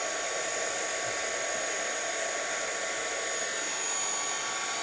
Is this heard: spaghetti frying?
no